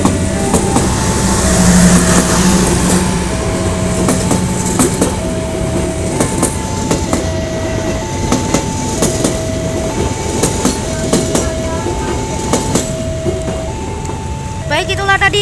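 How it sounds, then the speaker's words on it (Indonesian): Matarmaja passenger train rolling past the JPL 6 Madukoro level crossing in Central Java, with steady rail rumble, rhythmic clacking wheels and a repeating two-tone crossing bell throughout, loud and close. "itulah tadi satu kereta api Matarmaja sudah melintas di JPL 6 Madukoro"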